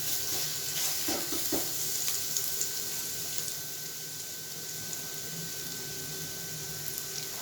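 Finely chopped, crushed garlic sizzling and frying in a pan, a steady close hiss with occasional stirring clatter, no voices.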